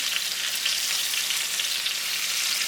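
Stuffed pork chops sizzle steadily in a hot pan as they are flipped, a close, even, hissing fry throughout.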